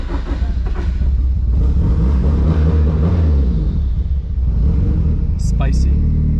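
Car with a Nissan SR engine, a straight axle and a welded differential accelerating, heard from inside the vehicle as a loud, continuous low engine drone that rises and falls, with a brief tyre chirp near the end.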